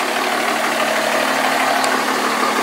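A 2006 Dodge Ram 2500 with a 5.9L Cummins diesel and aftermarket exhaust idles with its oil cap removed, a steady, loud, even rumble with a faint clattering edge that holds throughout.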